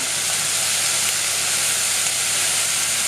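Crushed garlic hits a hot pan of browned minced beef and softened onions, giving a steady, loud, close sizzle with constant hiss and no voices.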